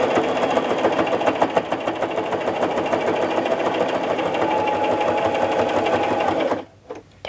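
Sewing machine back stitching a safety mitt, running in a fast steady mechanical rattle for most of the clip before stopping abruptly near the end.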